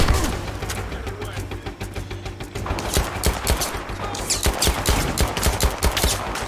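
An L85 replica gun fires in semi-auto, with loud close shots following one another quickly in a dense, slightly uneven string for several seconds without pause.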